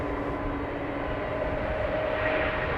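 An EasyJet Airbus A320neo airliner at Amsterdam Schiphol Airport gives off a steady, broad jet engine roar at moderate distance, with a thin whining tone running through it and no voices.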